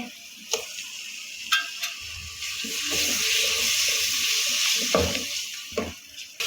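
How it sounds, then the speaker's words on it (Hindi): Spices and tomato paste frying in a pan over a medium flame, a soft steady sizzle with a few sharp clicks and taps of stirring. "इन सारे मसाले को हमने भून लेना तकरीबन 3 से 4 मिनट तक"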